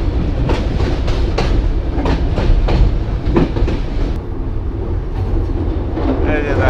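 The Banalata Express crosses the Jamuna bridge at slow speed with a loud, steady rumble from inside the train, broken by repeated clickety-clack wheel beats over the rail joints.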